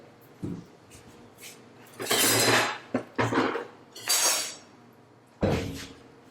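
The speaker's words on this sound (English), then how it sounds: "Stir the rice so that each grain of rice is coated with the oil" Rice being stirred in a pot of hot oil, with a few loud metallic scrapes and clatters of the spoon against the pot that come in separate bursts over quieter gaps.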